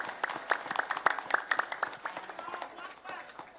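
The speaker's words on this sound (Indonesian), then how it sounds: "Tepuk tangan sepindah maneh." Audience applause at a village religious gathering in Kampung Bubutulan, a sermon event: a dense patter of claps from a moderately distant crowd, steady for a few seconds and gradually thinning out.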